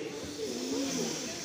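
An audience at a magic festival show blows together on cue, a breathy sustained hiss of many people exhaling at once, with faint voices underneath.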